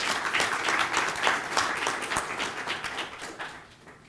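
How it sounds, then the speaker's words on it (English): An audience at a workforce development business conference applauds as a speaker comes up, a dense burst of clapping that peaks early and gradually fades out over about four seconds, with no talking. "Let's give him a round of applause as he comes."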